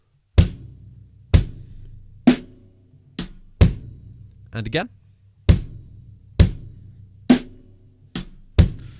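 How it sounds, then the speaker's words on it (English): A drum groove on bass drum, hi-hat and snare drum is played slowly, with about ten sharp hits spaced roughly a second apart, loud and close, and a brief spoken word partway through. "bass drum and hi-hat, bass drum and hi-hat, snare drum and hi-hat,"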